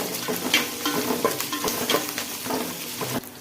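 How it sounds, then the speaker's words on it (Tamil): Onions and curry leaves sautéing in a pan, a steady close sizzle with frequent scraping stirs of a spoon against the metal running throughout without any talk. "இப்போ கருவேப்பிலையை போட்டுக்கலாம். போட்டு நல்லா வதக்கி விட்டுட்டு"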